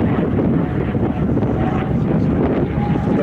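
Aerobatic aircraft flying a loop during a World War II weekend air show, a continuous roaring engine drone rising and falling as it passes, with heavy wind buffeting on the microphone.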